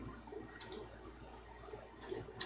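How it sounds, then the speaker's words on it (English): A computer mouse clicks during a Minecraft session late at night, sharp close taps arriving in small clusters over a faint, quiet room background. "You can hear all of my clicking"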